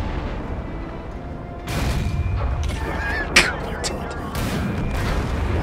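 In World of Tanks, a tank shell strikes an enemy turret with one sharp, bright impact crack in mid-clip, heard over constant engine rumble and battle din, near and moderately loud.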